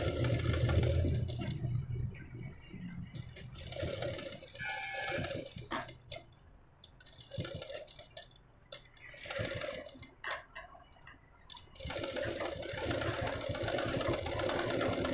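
A sewing machine stitches piping close to the edge of a canvas-backed blouse, running steadily at the start, pausing through a stretch of handling noise, then whirring again near the end.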